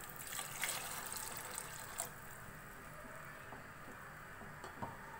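Water, about one and a half to two cups, trickles and splashes into chana dal mixed with spices in a cooking pot, a continuous close pour that eases off after a couple of seconds.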